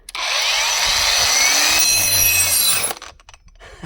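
A cordless angle grinder runs at a loud, high-pitched whine for about three seconds, then cuts off abruptly and spins down into quiet.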